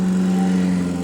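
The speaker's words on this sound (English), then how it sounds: "I'm sorry about the noise. That's my kid mowing the lawn downstairs." A lawn mower runs outside, below the room, giving a steady droning engine hum at an even, fairly loud level throughout, with no voices.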